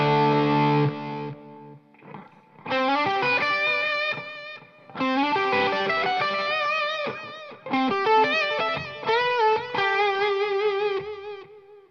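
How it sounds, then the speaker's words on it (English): Electric guitar run through a reverb patch on an Alesis Multimix 8 mixer, playing distorted, sustained lead phrases in three long bursts with wide, washy reverb tails between them; loud and close, no talking. "I found this great reverb patch, and I'm going to turn it on now."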